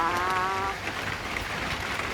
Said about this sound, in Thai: ลมแรงฝนตกแล้วค่ะ